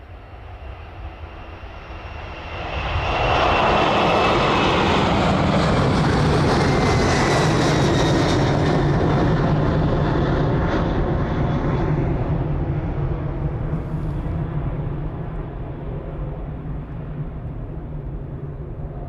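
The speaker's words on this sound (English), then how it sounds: "catch the 767 as it departs out of East Midlands" A Boeing 767 takes off from East Midlands Airport, its engines swelling into a loud, sustained roar that peaks near the runway and then slowly eases as the jet climbs away.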